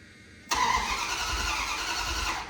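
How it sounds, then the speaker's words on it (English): A forgotten big block Dodge truck engine turns over and fires, a sudden loud onset that settles into a steady, rough running roar lasting a couple of seconds before easing off slightly at the end. "See if it'll crank now."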